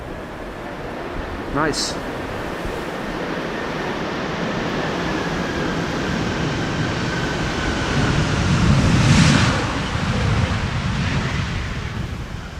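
Thrust reversers roar on an airliner landing in a crosswind at Amsterdam Schiphol, a distant broad rumble that swells and fades under steady wind noise, with a brief spoken word early on.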